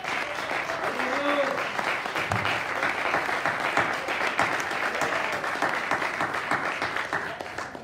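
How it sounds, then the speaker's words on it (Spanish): A church congregation claps steadily and continuously for several seconds, a dense wash of hands at moderate distance, with a voice briefly audible over it. "Dele palmas al Señor."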